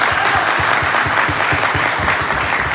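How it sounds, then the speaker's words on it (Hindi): Loud, dense applause from a crowd, steady clapping continuing for the whole stretch without pause. "जोरदार तालियां जरूर बजाएं"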